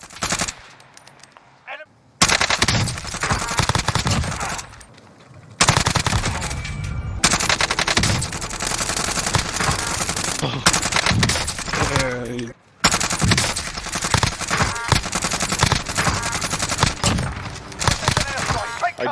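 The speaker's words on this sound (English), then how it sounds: "you're certainly going to miss some bullets when you're shooting this far away" Gunfire in a shooter video game, dense bursts of rapid automatic fire filling most of the stretch, loud and close, broken by brief quiet gaps, with a voice faintly under the shots.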